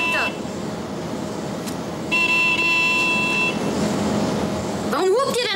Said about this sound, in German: Warum hupt ihr denn andauernd?